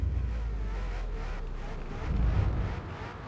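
A Ford Falcon FG X race car in the Forza Motorsport game, its engine a steady low drone that swells louder for a moment near the end, with no talk over it.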